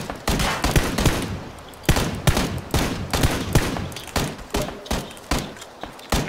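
Rapid bursts of gunfire ring out in the PUBG battle royale game, sharp repeated shots in irregular volleys fired from across the map, loud and crisp with little else around them.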